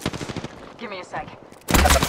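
Automatic weapon fire from Apex Legends gameplay crackles in quick bursts at the start and returns loudly near the end, with a short in-game voice line heard in between.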